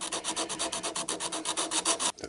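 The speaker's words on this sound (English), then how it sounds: "But I'm just hand sanding it just to blend it in a little bit" Steady rhythmic rasping of sandpaper rubbed back and forth by hand over a soft wooden turned pot, close up, with quick even strokes and no talking.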